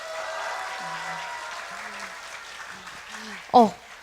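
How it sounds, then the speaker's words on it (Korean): Young people at a middle school church worship service applaud softly while a voice speaks over them, ending with one brief, sharp burst near the close. "크게 박수 쳐주세요."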